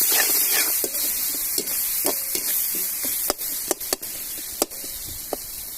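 Tomatoes sauté in a hot pan, a continuous soft sizzling hiss broken by sharp spatula taps and scrapes against the metal at irregular intervals, close up with no talking.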